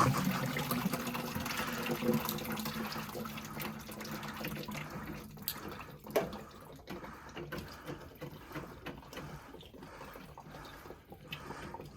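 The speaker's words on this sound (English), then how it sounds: "Trying to get the water to drip." Water running and trickling from a New Yorker boiler into a bucket during a repair of a unit with no heat, a steady watery splashing with occasional clanks, close and fairly quiet.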